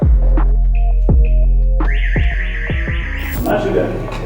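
A car alarm cycles through its tones: repeated throbbing pulses, then a rising warble and a shrill electronic siren, loud and close.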